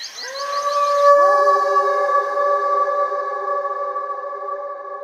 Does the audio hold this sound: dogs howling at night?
yes